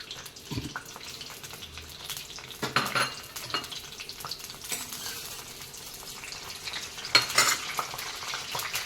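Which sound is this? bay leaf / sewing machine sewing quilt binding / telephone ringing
bay leaf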